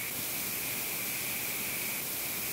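A looped noise channel in Ableton, played without sidechain compression, gives a steady, dense hiss that stays unchanged throughout, quiet and even, with no talking.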